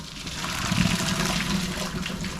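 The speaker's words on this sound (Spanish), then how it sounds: "Ahora vamos a pasar por acá a drenar esta agua." Hot water drains off boiled cassava, a steady splashing pour that runs for a couple of seconds at moderate loudness with no voices.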